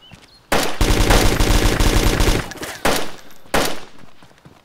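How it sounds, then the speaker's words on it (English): Machine gun fire in the survival shooter DayZ: a loud sustained automatic burst of about two seconds, followed by two or three separate heavy single shots, with no talking. "MG to your right, at the wall."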